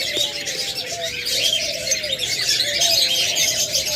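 Diamond doves, a pair of an albino red-eye and a rainbow male, coo in soft repeated low calls, close by, over a bright background of other small birds chirping steadily throughout.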